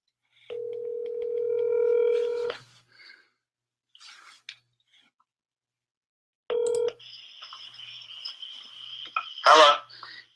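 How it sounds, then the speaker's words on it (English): Keypad tones and a steady dial tone sound, then after a pause an outgoing telephone call rings, with a brief electronic click and ring bursts near the end. "Let's see if he answers the phone."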